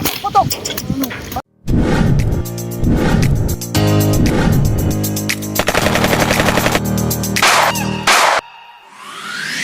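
Rapid bursts of sharp airgun shot cracks fire in quick succession, loud and close, with brief silent gaps between volleys and a whooshing sweep at the end, at a hanging bridge while fishing.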